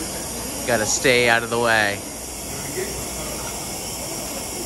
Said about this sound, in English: he's just been given the go ahead to turn off the steam